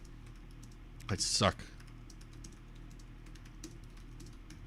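Typing on a computer keyboard, faint rapid key clicks running steadily through the background while a person speaks briefly up close.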